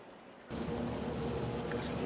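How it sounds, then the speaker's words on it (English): Steady rain hisses across the Donington race circuit in wet GT4 conditions, a broad continuous wash that swells in after a quieter start and holds evenly to the end. "We're going racing for round 7, Donington in the rain."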